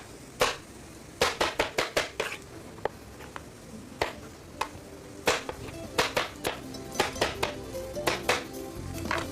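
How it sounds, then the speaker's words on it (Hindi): Knife coarsely chopping tomatoes on a cutting board in a home kitchen while onions cook, sharp woody knocks in irregular quick runs and singles, close and fairly loud with no talk. "यहाँ ले लेते हैं टमाटर जनाब, थोड़ा सा मोटा इसको काट लेंगे।"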